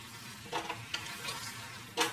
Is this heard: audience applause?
no